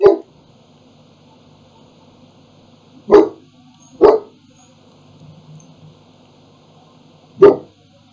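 A tiny dog barks close by, four sharp single barks spaced irregularly over several seconds, loud against a quiet room with a faint low hum.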